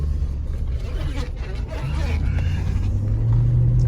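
A Chevrolet Suburban 2500 LT truck in pewter with low miles drives along steadily, a continuous low engine and road rumble that grows slightly louder toward the end, with a person talking over it throughout.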